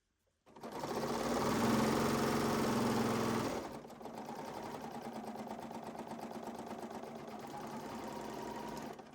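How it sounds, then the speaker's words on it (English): A serger sewing machine stitches fabric, a loud close whirring run of about three seconds, then a quieter steady mechanical hum as it sews off a short thread chain. "Then I sew off just a little bit and trim my threads back there"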